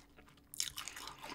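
Crispy potato crunched and chewed up close during a Korean bossam eating session, a quiet start then a burst of sharp crackling bites followed by steady crunchy chewing.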